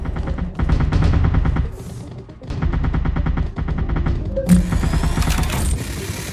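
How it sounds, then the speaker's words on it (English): A machine gun sentry in the game Artificial Extinction fires long, loud, rapid mechanical bursts with brief pauses between them, close and dominant. "The machine gun sentry weapon system is designed for short-range targets where high rate of fire is the priority"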